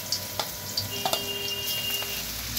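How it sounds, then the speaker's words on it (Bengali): Garlic sizzles steadily in a hot pan, being fried for a radish greens dish, with a few soft clinks and stirring taps over the continuous frying hiss, close and moderately loud. "রসুনটা একটু ভাজা ভাজা করে নেব।"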